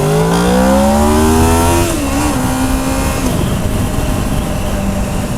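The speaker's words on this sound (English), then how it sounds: "it just explodes once the VTEC kicks in" A motorcycle engine with VTEC revving hard, a loud, close, rising howl that climbs in pitch, then drops sharply as revs fall away into a lower steady drone.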